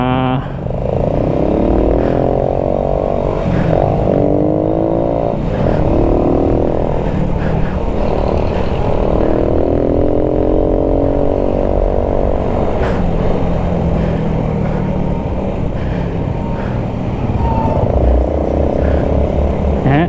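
Sunday traffic of cars and motorcycles passes by, heard from a riding motorcycle, with a loud continuous engine drone, shifting engine tones and wind rumble throughout.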